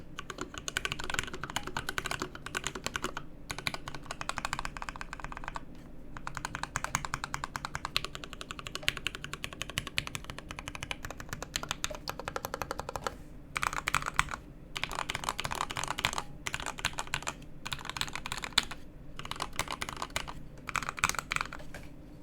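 Fast typing on a Honeyboard60 mechanical keyboard with PBT keycaps makes a close, continuous clatter of soft, muted key clacks, broken by a few brief pauses, with no talking over it.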